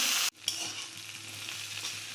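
Potato and eggplant frying in a pan: a loud sizzle cuts off abruptly, then a softer, steady crackling fry continues close by, with a brief clatter near the start.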